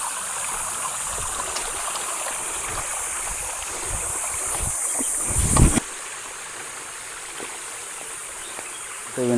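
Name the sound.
water flowing fast down a forest stream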